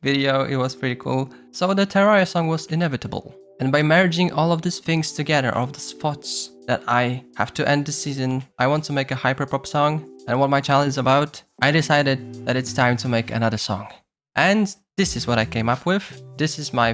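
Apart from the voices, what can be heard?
None of the usual background noises is heard.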